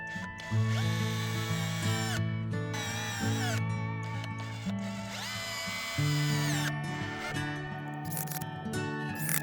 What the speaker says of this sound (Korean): 나무 조각을 대고 피스로 고정해서 연장해 줍니다.